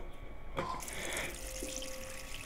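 A water tap in the survival horror game Haunting Ground runs with a soft, fairly faint splashing stream that starts abruptly and continues steadily, with a thin tonal ring beneath it.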